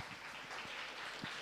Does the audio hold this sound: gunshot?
no